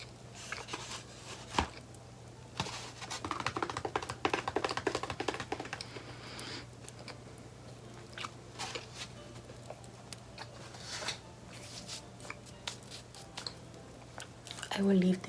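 Cake is eaten in soft, close chewing and small crunchy bites, scattered irregularly over a quiet background hum with brief clicks and taps, and a voice speaks intermittently.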